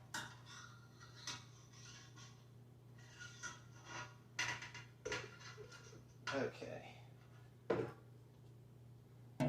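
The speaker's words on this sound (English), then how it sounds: "I'm going to just stir this in." Malt extract is stirred into a hot homebrewing pot; a spoon scrapes and knocks against the metal in irregular strokes over a steady burner hum, with a brief spoken word.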